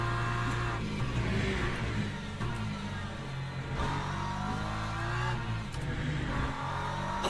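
Racing hypercar engines in the Le Mans Ultimate video game, a steady loud engine drone with shifting pitch as cars run together, continuous throughout with no talk.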